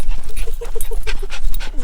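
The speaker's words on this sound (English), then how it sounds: "This dog likes to be on top of me." Excited dog in a camper van at a state forest campsite, close, loud rhythmic panting with quick breaths and small whimpers, no talk.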